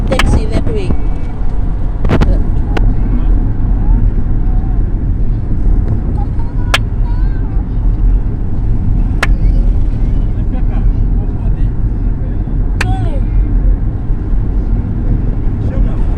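A taxi and busy street traffic make a loud, continuous roar of engines and road noise, broken by several sharp clicks and knocks, with voices talking over it.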